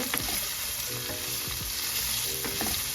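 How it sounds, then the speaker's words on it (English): Vegetables for steak and cheese sliders sautéing in a skillet: a close, steady sizzle and crackle with spatula scrapes and light stirring clatter, no voices. "Saute these vegetables on up, everyone, like so."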